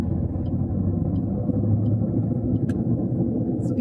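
Steady low engine rumble from a car pulling away on a road after a shift into third gear, a constant close drone with faint road noise and no voices.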